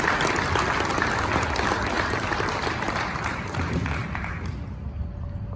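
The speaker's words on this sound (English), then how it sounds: "let's have a round of applause for that" Audience applause at a Toys for Tots 2019 opening ceremony, a steady wash of many hands clapping that gradually fades over several seconds.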